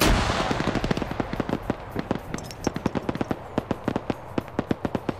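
Rapid bursts of gunfire and blasts in a video game PvP match, including grenade explosions: dense sharp cracks crowding together early, then thinning into evenly spaced loud reports.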